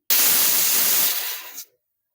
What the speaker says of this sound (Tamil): நாலு விசில் வந்துருச்சு இப்போ நம்ம குக்கரை இறக்கி வச்சிடலாம்